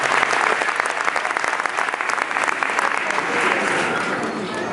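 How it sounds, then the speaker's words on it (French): A crowd at an outdoor winter rally against Quebec's proposed charter claps loudly and steadily to welcome newcomers, a dense sustained round of applause from close by with voices mixed in. "Et on les applaudit s'il vous plaît"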